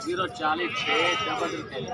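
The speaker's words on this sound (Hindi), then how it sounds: "ये बकरी चेक करो, बहुत मदरसा मंडी की खूबसूरत बकरी है" Goats bleat repeatedly at a busy goat market held for Bakra Eid, the calls close and mixed under steady talking from nearby people.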